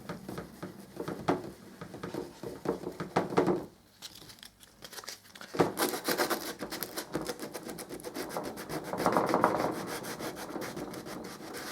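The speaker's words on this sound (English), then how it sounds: "Anything furs up like that, remove it with your sandpaper." Sandpaper rubs steadily back and forth over a hollow door in close, scratchy strokes, pausing briefly midway before the rasping resumes, louder toward the end.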